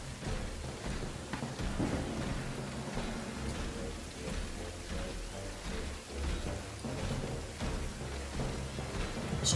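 A thunderstorm rolls through Aliens: Dark Descent, with dense, steady rain hiss and deep rumbling thunder that swells and pulses continuously and fills the whole scene.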